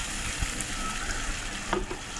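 Steady sizzling of chicken and spices frying in a pan, with a faint scrape of stirring, fairly close and continuous.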